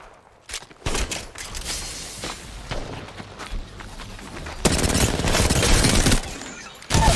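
Enemy gunfire in Apex Legends, with dense bursts of shots and impacts running through the whole stretch and growing louder and more intense toward the end, with barely any voice underneath.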